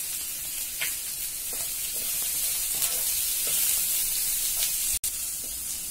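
Onion for channa masala sautés in a pan with a low, even, hissing sizzle and a few faint stirring scrapes. A brief click sounds near the end.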